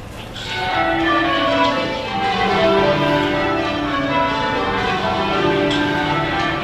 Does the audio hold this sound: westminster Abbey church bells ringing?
yes